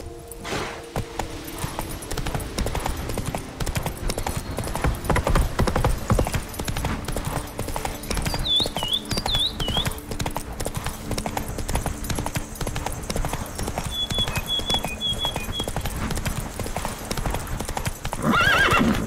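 Roach, a horse in The Witcher 3: Wild Hunt, walks with steady clip-clopping hooves and gives a short whinny partway through, all over ambient game background sound.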